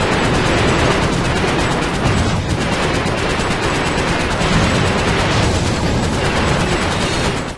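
Dense, continuous rapid gunfire from the video game Ratchet & Clank: Deadlocked, loud and sustained with bursts of shots and booms overlapping, no talking over it.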